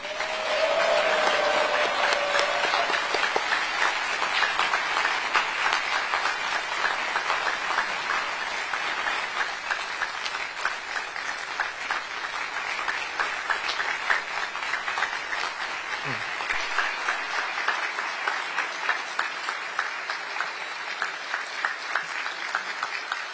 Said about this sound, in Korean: 다시 한번 대통령님께 큰 박수 보내주시기 바랍니다.